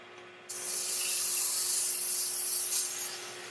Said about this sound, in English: Okay, just take a strip of sandpaper.